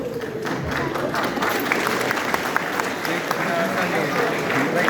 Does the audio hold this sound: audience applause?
yes